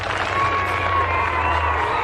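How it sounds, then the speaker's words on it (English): Sports spectators cheer and applaud at an athletics event, a continuous roar of a large crowd heard from a distance, steady and unbroken throughout. "Listen to the crowd."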